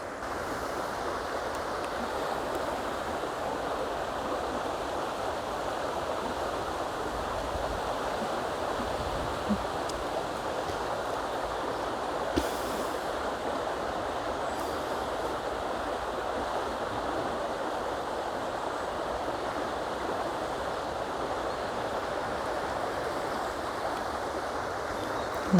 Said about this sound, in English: we just have to stop and appreciate the sound of the water